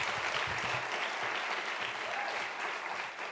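A crowd at a Black Lives Matter event at De Anza College claps continuously, a thick, even roar of many hands that carries on at a constant level before easing slightly at the end.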